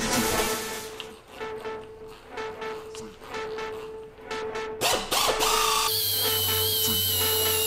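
A power buffer polishing aluminum with buffing compound, a steady whirring grind with uneven bursts and rising pitch as the pad works the metal, loud and close with no talk.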